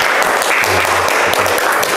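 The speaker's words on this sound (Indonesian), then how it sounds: "tepuk tangan untuk" Classroom applause during a lesson, a dense wash of clapping from a group of students that fills the whole moment, with a faint low voice briefly underneath.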